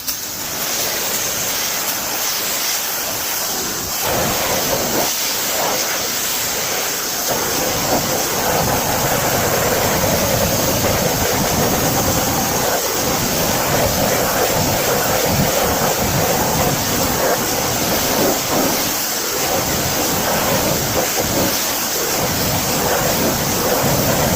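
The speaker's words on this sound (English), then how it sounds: "So, what we're going to do now is rinse it off, and then we're going to repeat." A steady, broad rush of water hoses down a dirty car wheel and tire, continuous and fairly loud throughout with no pauses and no voices.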